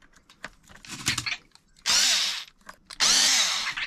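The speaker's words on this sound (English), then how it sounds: "Take out these two screws here just to kind of release the shocks from the shock tower." Power driver whirring in two sustained bursts as it backs screws out of the shock tower on an Arrma Big Rock RC truck, preceded by light handling clicks and rattles of the plastic parts up close.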